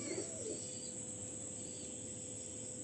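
Butterfly-breed and Red Eagle-breed pigeons kept in a loft coo softly and steadily, close by, under a constant hiss of background noise.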